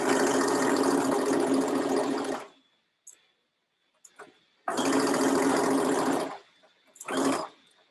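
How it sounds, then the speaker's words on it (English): A sewing machine stitches the seams of a lined dress, running in loud, steady bursts of rapid whirring stitching, stopping briefly between runs with small clicks and handling sounds in the pauses. "This one I'm going to stitch from the bottom up just so that I can have my pins over on the right-hand side of my machine"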